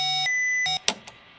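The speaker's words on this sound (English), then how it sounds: "reset the master alarm if sounding" A spacecraft master alarm in the Reentry space flight simulator sounds two loud, sharp electronic tones of even length and then cuts off, followed by a couple of brief clicks in near silence.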